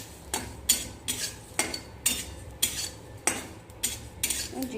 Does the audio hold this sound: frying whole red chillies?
yes